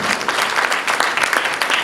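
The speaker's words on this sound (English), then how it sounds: "Give yourselves a good round of applause for being a good audience and helping me" An audience at a magic and mentalism show breaks into a short burst of loud, close, dense clapping that holds steady for about two seconds.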